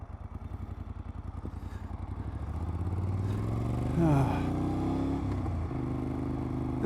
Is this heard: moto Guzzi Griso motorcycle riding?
yes